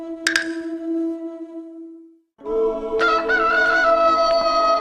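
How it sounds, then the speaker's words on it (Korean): A rooster crows twice, loud and close: a long drawn-out call that trails off, then after a short pause a second full crow with strained, ragged harmonics, heard alone. "닭이 우는 새벽에 일어나"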